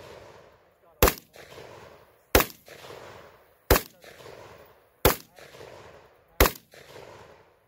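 Five sharp, loud gunshots at an outdoor shooting range, fired singly at a steady pace about every second and a half, each with a short echo, while people talk quietly between shots.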